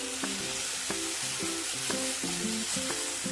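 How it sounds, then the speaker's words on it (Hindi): Masala frying in a pan for egg curry gives a steady broadband sizzle with a pitched, melodic tune playing over it; no one speaks. "मेरा मसाला पूरी तरह से भुन चुका है।"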